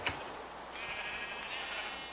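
A Minecraft sheep bleats in a wavering, drawn-out cry over a steady low hum, with a short click at the very start.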